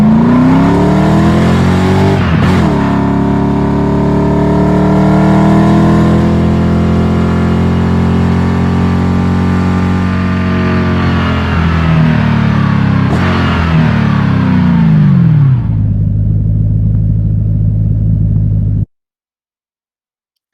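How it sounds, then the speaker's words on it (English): A simulated Ford Mustang engine heard from inside the cabin in a driving game, droning loudly with rising and falling revs and gear shifts, then dropping to a steady low idle before cutting out. "This is a Ford Mustang simulation of the car, of the engine."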